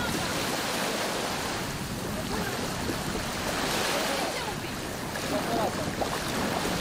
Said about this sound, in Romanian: valurile care se sparg printre stânci nu-i sperie pe turiști